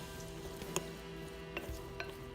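Blueberries being stirred with lemon juice and cornstarch in a bowl, a soft continuous wet rubbing with a few faint clinks of the utensil against the bowl, quiet and close.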